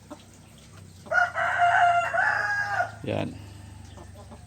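A rooster in a cramped backyard chicken coop lets out a loud, drawn-out crow lasting about two seconds, followed by a short cluck, with someone speaking briefly nearby.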